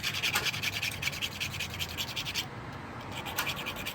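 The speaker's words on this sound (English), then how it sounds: "There's a little bit of a burr on that one. Just gonna file that off." A hand file rasps back and forth over a metal burr on battery bank wiring, giving rhythmic, close scraping strokes that stop briefly before resuming.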